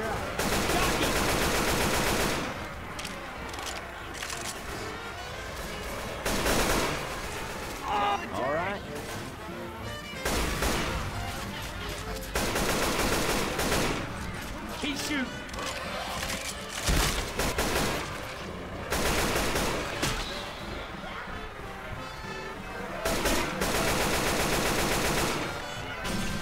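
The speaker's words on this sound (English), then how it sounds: "Shoot it! Light that mother up!" Sustained gunfire from weapons in the Left 4 Dead 2 game, set in The Parish campaign, with rapid overlapping bursts that continue loudly for most of the stretch while voices shout over the shooting.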